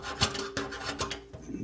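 Screwdriver scraping dried residue off a garbage disposal, a quick series of short rasping strokes in an uneven rhythm, close and moderately loud with no talking.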